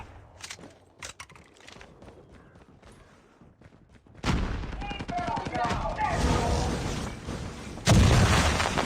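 Rapid gunfire from a weapon in COD Mobile, a dense, loud burst of shots that starts abruptly partway through and continues to the end, following a quieter stretch of scattered clicks and faint sounds.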